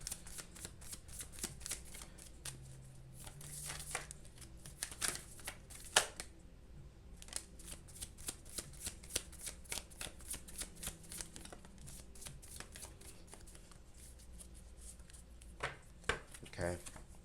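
Oracle cards are shuffled by hand in a steady run of crisp riffling taps and soft slaps that continues throughout, close and fairly quiet, with brief speech in places.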